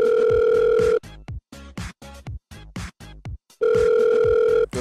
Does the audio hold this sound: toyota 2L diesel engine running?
no